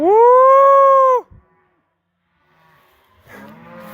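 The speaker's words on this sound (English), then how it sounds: "Got a reverse cattle drive there." Cattle on a drive across a grazing property give a loud, close moo lasting about a second, then after a short quiet another cow starts lowing; no talking.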